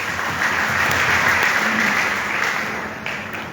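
At a business seminar hall in Begusarai, an audience claps together in a dense, sustained round of applause that swells and then slowly tapers off, with no speech over it.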